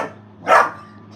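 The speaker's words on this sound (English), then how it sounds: "Here go this damn Doberman barking again." A Doberman gives a single loud bark, close by, standing out briefly against a quiet late-night room background.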